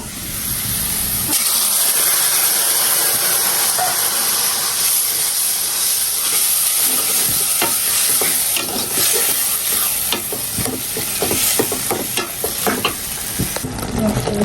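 Onion, garlic and taro greens frying in a hot pan, a loud steady sizzle and hiss with repeated scraping stirs of a spatula building through the middle and end.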